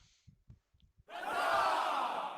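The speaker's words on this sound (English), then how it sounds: "can I get a happy crowd for that looting of the room?" Happy crowd cheering sound effect, a sudden loud burst of massed cheers and shouts that swells and holds after a few soft taps.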